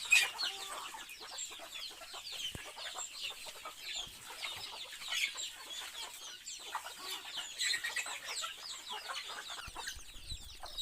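A poultry yard on a farm holds hens, a rooster and many chicks, their overlapping clucks and high peeping cheeps forming a busy, continuous chorus at close to moderate distance.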